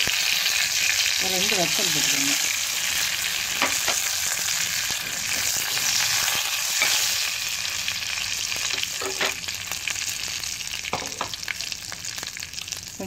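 Mustard seeds and dried chillies fry in sesame oil, producing a steady, close sizzle with faint crackles that runs through the whole stretch while someone speaks briefly over it.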